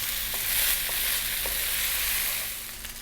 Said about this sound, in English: Frying rice, that is.